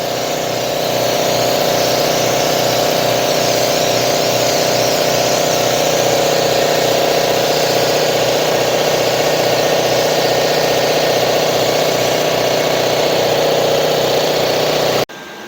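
Cheap powder coat spray gun coating an old ice fishing hut stove, a steady loud hiss over a droning compressor-like hum that runs unbroken and stops abruptly at the end, close by with no talking.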